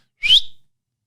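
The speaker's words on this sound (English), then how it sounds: "I want to set up a whistle recall that's a whistle like this" A single short, sharp, high-pitched whistle blast used as a hunting dog recall signal, rising slightly in pitch, loud and close, then silence.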